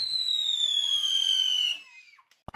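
A chakri spinning firework whirls with a steady high whistle that slowly drops in pitch, then fades out, followed by a couple of sharp pops.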